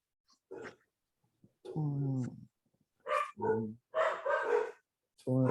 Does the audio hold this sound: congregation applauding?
no